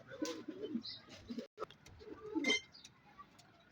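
Pigeons coo in a few low, throaty bursts, with a pause midway and a fuller burst near the end, set against faint background noise.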